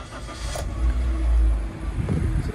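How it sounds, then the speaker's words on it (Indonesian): A used car with 68,193 km on the clock starts up, its engine catching with a low rumble that swells, then settles into a steady idle, heard up close. "Mesin nyala, suara mesinnya juga masih bagus"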